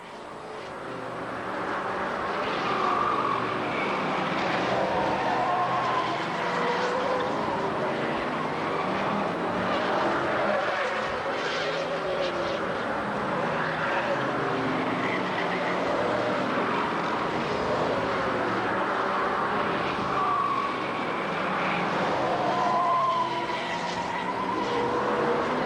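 F1 stock cars circle a track at a 1991 British Championship race, their engines a continuous distant roar that rises and falls as the cars pass, with no voices over it.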